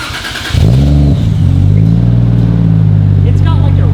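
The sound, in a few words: Toyota Chaser JZX100 engine revving with titanium Tomei exhaust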